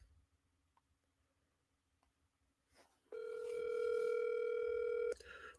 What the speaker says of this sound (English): I'm gonna call Chuck and see if we could just get him on speakerphone